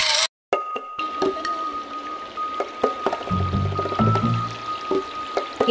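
Water of the Balingaso river flowing and trickling nearby, with soft splashes and drips, a steady background hum, and scattered knocks and bumps.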